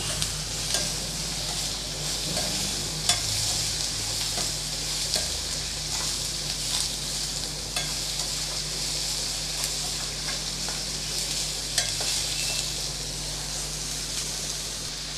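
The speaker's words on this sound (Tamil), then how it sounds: "இப்போ நல்லா வதக்கி விட்டாச்சு" Snake gourd sizzles and hisses steadily in a hot pan, with occasional scraping stirs of a spoon across the bottom; no one speaks.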